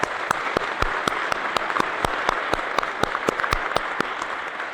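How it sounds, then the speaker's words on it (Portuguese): A church congregation applauds a couple during a service in Balneário Camboriú, a steady crackle of many hands with some sharper individual claps standing out throughout. "Uma salva de palmas ao casal."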